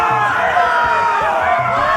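A crowd cheers and roars in an arena scene of the Telltale Game of Thrones video game, a dense, continuous wash of voices at steady loudness for two seconds.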